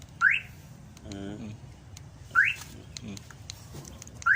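A car alarm's locator signal sounds on a Mitsubishi Montero, giving repeated short, rising chirps at regular intervals. Softer electronic tones fall between the chirps, and the sound is moderately loud against a quiet background.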